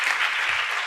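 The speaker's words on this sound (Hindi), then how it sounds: "एक बार तालियां बजा लो आप लोग" A seated audience at a religious discourse claps in a brief burst of dense, even applause that fills the whole moment.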